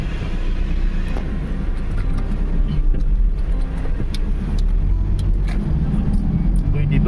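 Trucks passing on a road, a loud continuous rumble of heavy traffic close by, swelling slightly as vehicles go past, with voices faintly underneath.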